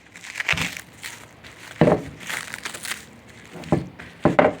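Plastic packaging crinkles and crackles as it is unwrapped from a heavy motorcycle engine cylinder head, a part for a 50 mph bike build. Several close, irregular bursts of crumpling are heard, with no talking.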